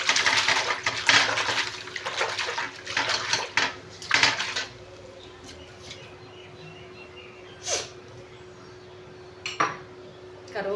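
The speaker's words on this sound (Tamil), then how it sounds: "கடுகு மண்டை பொழந்து கட்டுது." Mustard seeds spluttering in a hot pan, a burst of sharp crackling pops in the first few seconds that thins to scattered isolated pops over a quiet background, with a faint clink of cookware.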